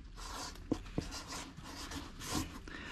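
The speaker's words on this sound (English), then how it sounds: "I'm gonna go ahead and write the tear weight on here" A pen or marker scratches across an empty cardboard box, a few short quiet strokes with a couple of sharper taps, close and soft in a quiet room.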